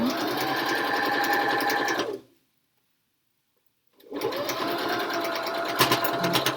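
An electric sewing machine runs a fast steady whir as it stitches the elastic casing of a cloth face mask, stops for a couple of seconds of silence, then starts again, close and clear.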